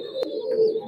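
A Pakistani highflyer pigeon at a loft in Khulna gives one short, close coo, a soft tonal call alone with faint background hum.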